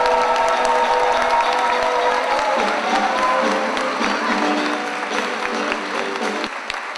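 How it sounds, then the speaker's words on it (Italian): Audience applause at a Christmas concert, steady clapping mixed with some cheering and crowd noise that stays loud for the whole stretch, easing only slightly toward the end. "è arrivato il momento di fare un forte applauso all'ideatore, al direttore artistico Luigi Cogliano."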